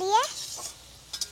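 Mixed vegetables with jackfruit seeds stirred in a pan, a brief scrape and clink near the start, then quiet, with two short utensil knocks toward the end.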